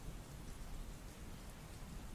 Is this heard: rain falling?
yes